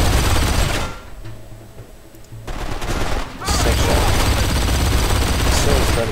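A mounted gun in the video game Blacksite: Area 51 fires in loud sustained bursts with a short pause between them, while voices talk over parts of the shooting.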